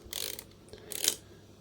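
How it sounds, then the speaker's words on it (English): Two quick mechanical clicks and a ratcheting rasp come from the film wind-on lever of a 1947–1950 Voigtlander Vito 35mm folding camera, faint and close up with no talking. "Wind on again. And then we got the click"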